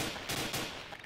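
A couple of sharp, punchy gunshot bursts in quick succession in the video game Garry's Mod DarkRP, loud and close, followed by fading rattle.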